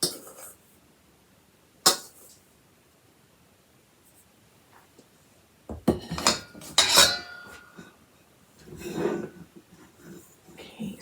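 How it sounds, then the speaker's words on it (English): Spatula clinks and scrapes against a bowl while macaron batter is folded, a sharp knock early on, then a cluster of scraping strokes followed by a softer swipe, with quiet gaps between. "we're going around the bowl, scraping around and then cutting through the middle"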